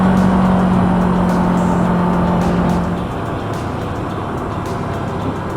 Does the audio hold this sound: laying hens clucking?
no